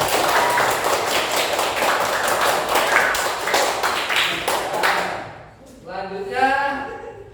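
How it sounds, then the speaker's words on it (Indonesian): A classroom of students claps in unison for about five seconds, a dense run of sharp, even hand claps close by, before it stops and a voice starts talking. "tepuk tangan untuk kalian semua"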